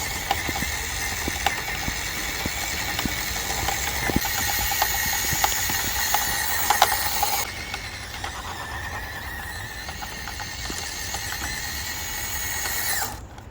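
An FMS Land Rover Series II scale RC car runs at full throttle in second gear, giving a continuous whining motor and gear drone with clicks and ticks, which drops to a lower, quieter level partway through.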